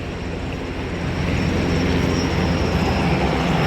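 An aircraft flies away from a helicopter and private plane service site, producing a loud, steady, broadband engine roar that swells slightly and continues without speech.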